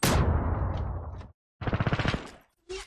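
Rapid automatic P90 fire in the online shooter Zula comes in two loud bursts separated by a short silence, with the start of a third burst at the very end.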